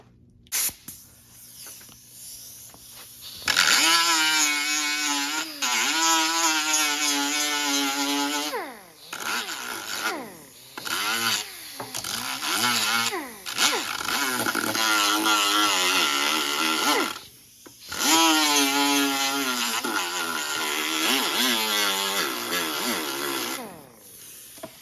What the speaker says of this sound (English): I'm taking the sander at an angle and I'm just blending it until it just touches this inside